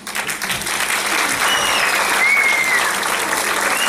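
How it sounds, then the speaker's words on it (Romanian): A concert audience at an anniversary folk show in Vulcan, Hunedoara applauding as a singer takes the stage, dense sustained clapping from a large crowd with a brief high whistle or cheer rising above it. "să o aplaudăm!"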